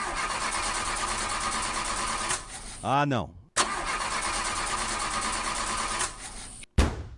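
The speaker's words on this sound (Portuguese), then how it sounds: "Não acredito que o carro não vai querer pegar de novo." A car engine cranks with a rising, repeated churning burst for about half a second but does not catch, heard briefly amid a steady background hum, followed by a short spoken exclamation.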